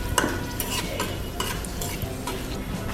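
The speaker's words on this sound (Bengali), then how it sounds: "এখন আমি মৌরি দিয়ে দিচ্ছি, আস্ত শুকনো মরিচ দিয়ে দিচ্ছি, তেজপাতাটা ছিঁড়ে দিয়ে দিচ্ছি," Fennel seeds, whole dried chillies and a torn bay leaf hit hot oil for a ridge gourd dish, giving a steady close sizzle with several bright scraping stirs of the spoon through the pan.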